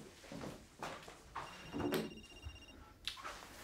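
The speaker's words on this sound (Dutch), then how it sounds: "je telefoon gaat" A telephone rings faintly with a steady electronic tone lasting about a second, amid soft rustling and movement noises in a quiet room.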